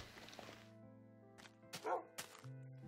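Tame dogs in Minecraft on Xbox 360 give a few short, close barks and yips in the middle of the clip, over a steady low game tone.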